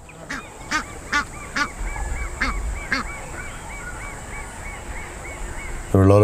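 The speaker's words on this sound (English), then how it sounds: "Little family of Egyptian geese waddled towards us. The female had a lot to say." A female Egyptian goose honks in a series of loud, harsh calls, several in quick succession near the start then spaced out, close by over an outdoor background hum.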